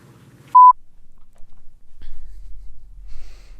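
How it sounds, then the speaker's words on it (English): A mobile phone announcing an incoming call gives a single short electronic tone, clear and close, followed by quiet low room rumble with no talk. "I'm getting a phone call"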